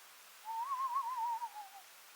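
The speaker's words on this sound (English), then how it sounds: "It's a little screech owl." A screech owl gives a single wavering, tremolo whistle in dark woods, a thin quavering call about a second long that trails off softly against a quiet background.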